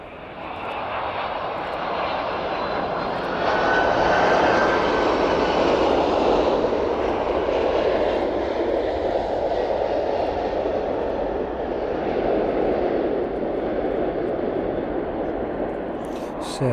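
Antonov An-124 heavy freight aircraft landing and taxiing at East Midlands Airport, a loud, steady engine roar that swells mid-way and holds throughout, with no talk over it.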